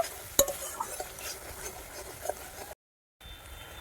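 A paste of ground mustard and poppy seeds is sautéed in a pan, giving a soft, quiet sizzle with a few light clinks and stirring scrapes of a utensil, broken by a brief silent gap.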